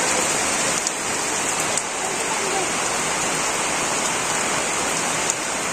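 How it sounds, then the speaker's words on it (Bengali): Steady rain pours down in a village yard, a dense continuous hiss of drops on surfaces that stays loud and even throughout, with no break. "আইলো বৃষ্টি আইলো।"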